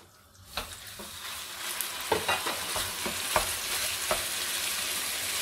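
Ground meat drops into a well-heated pan with a spoonful of olive oil, bursting into a loud, continuous sizzle, with scattered knocks and scrapes of stirring and no voices.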